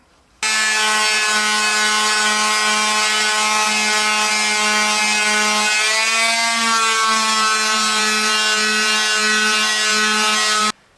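A steady, loud buzzing whine of a power sander on a wooden coffee pod holder runs continuously, dipping briefly in pitch midway as pressure shifts, then holding steady until it stops.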